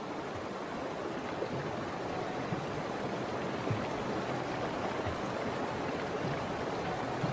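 Cold, fast river water rushes in a steady, dense broadband roar as bison calves swim beside their mothers, with no voices heard.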